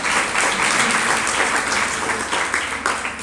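An audience at a spiritual discourse class claps, a dense sustained round of applause that fills the hall evenly and loudly throughout.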